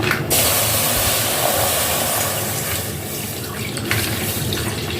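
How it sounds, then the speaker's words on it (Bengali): About a litre of milk pours steadily into a pot of hot water, palm jaggery and cardamom for kheer, a continuous rushing, splashing stream heard up close and alone. "এবার দুধটাকে আমি ঢেলে দেবো।"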